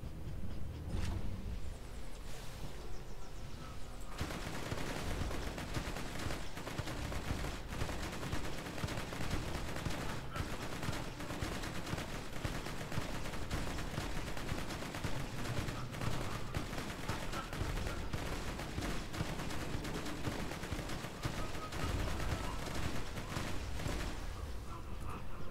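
Sustained video game gunfire from Borderlands 2, with dense, rapid bursts and repeated shots running almost nonstop against a busy backdrop of game sound.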